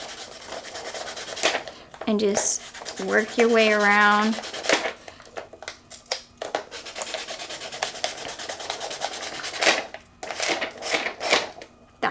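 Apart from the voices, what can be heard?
sanding tool sanding acrylic cheer stick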